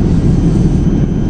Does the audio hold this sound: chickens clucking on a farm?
no